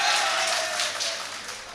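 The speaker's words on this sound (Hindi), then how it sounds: "ये मेरे संबल वाले जोरदार तालियों से मुझे इजाजत दो" Loud, continuous applause from an audience at a Hindi-Urdu poetry recital (mushaira), a dense steady wash of many hands clapping that eases slightly toward the end, with no talk over it.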